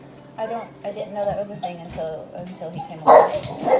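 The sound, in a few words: dogs barking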